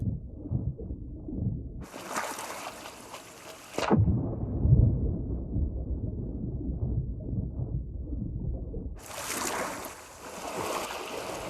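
Stormy seas in the pirate game Sea of Thieves: a roaring, rumbling wind-and-water storm rises, a broad crashing surge bursts out twice over a constant low churning swell, with no voices.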